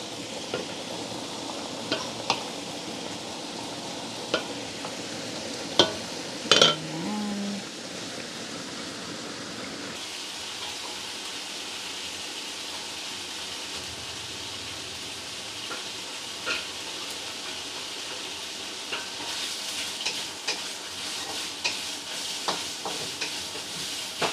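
Kaldereta simmering in a pot hisses and sizzles steadily while a spoon stirs and scrapes through it, with a few louder clanks of utensil against the pot and no talking.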